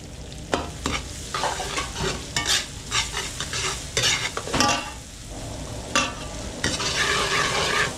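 Garlic and onion sizzle and fry in a pan, with repeated scraping stirs of a utensil breaking through the constant crackle, heard up close with no talk.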